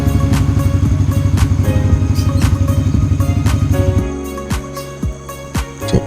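A motorcycle engine warms up close by, a loud rapid steady idle pulse for about four seconds, then cutting to quieter, separate revs and knocks.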